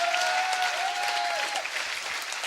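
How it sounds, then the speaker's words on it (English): An audience applauds for Tamsin at a launch event, a dense, steady round of clapping throughout with a faint whistle-like tone riding over it early on. "Big round of applause for Tamsin."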